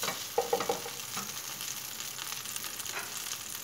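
Butter sizzles in a frying pan as an egg-and-cheese dish is started, a steady hissing fry with a few crackling pops early on, close and alone without talk.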